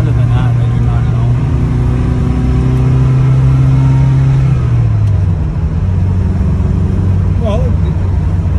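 A 1970 Lancia Fulvia 1.3S Sport Zagato's small engine drones steadily while driving, its pitch shifting during a downshift midway, with people talking over the cabin noise throughout.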